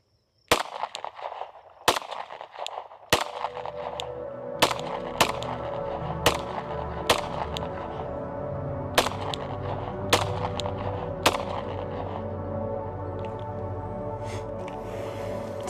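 Gunshots from a Glock 26 style pistol fitted with PSA Dagger parts, about a dozen loud, sharp reports fired one at a time at an uneven pace, each ringing out with a lingering echo.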